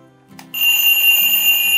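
A new alarm clock set to sound at twelve o'clock goes off: after a soft click, a loud, steady electronic ring starts abruptly and carries on without a break, with no voices over it.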